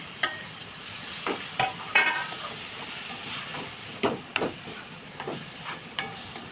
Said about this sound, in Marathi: असं व्यवस्थित परतून घ्यायचं तेलामध्ये.